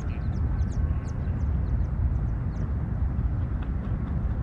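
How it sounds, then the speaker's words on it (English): Birds calling at La Lagunita, a coastal lagoon near Ensenada, Baja California: scattered short chirps and calls over a dense, steady rush of wind and water noise. "look at that guy, birds."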